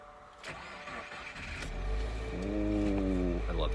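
A car engine cranks and catches, settling into a deep, steady idle rumble that grows louder and holds, close by, after a short stretch of quiet background sound.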